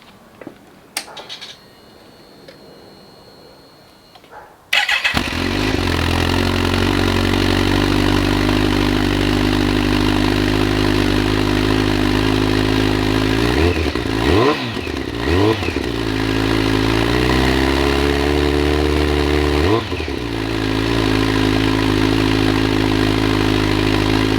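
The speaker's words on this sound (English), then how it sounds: "I'm going to show you the startup one more time." 2006 Kawasaki ZX14 motorcycle engine cranks and fires up after a few quiet seconds, then settles into a loud, steady idle with brief revs and dips, close by.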